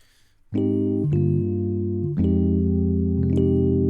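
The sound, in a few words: synthesizer default sound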